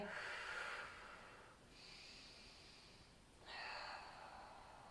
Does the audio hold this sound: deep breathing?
yes